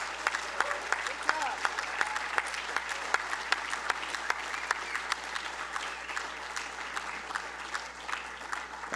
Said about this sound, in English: please stand so we can give you a round of applause as well